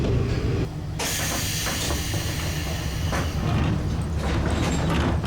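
A train rumbles and hisses steadily as it pulls into Tsukisaki Station on the Kominato Railway in Japan, with a broad rushing noise and brief clanks, loud and close throughout.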